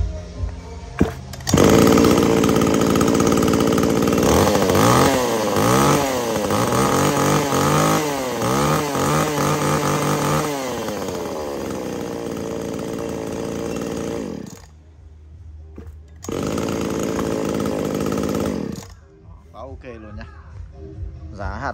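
A used Japanese Tanaka chainsaw starts and runs, its small two-stroke engine roaring loud and close with revving rises and falls. It cuts out briefly, restarts, then stops.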